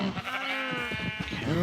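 A Minecraft cow lets out a single drawn-out, nasal, bleating moo, close and clear, lasting a little over a second.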